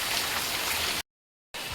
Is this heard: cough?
no